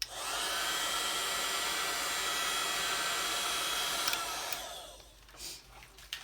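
A quick zap over freshly mixed resin for blue, white and silver coasters gives a steady, loud blowing whoosh for about four seconds, then cuts off, leaving faint room noise.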